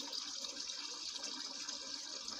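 Rainwater is drawn from a small rain-collection tank for watering plants, with a steady splashing and pouring of water that runs without a break and without voices.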